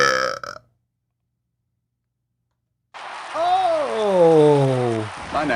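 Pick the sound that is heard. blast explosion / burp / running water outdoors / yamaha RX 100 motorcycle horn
burp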